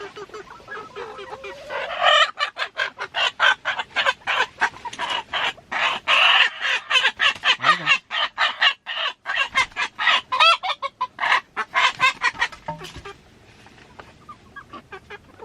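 Chickens in a homestead coop cluck loudly and continuously in close, rapid bursts, with a few longer squawks mixed in and no talk.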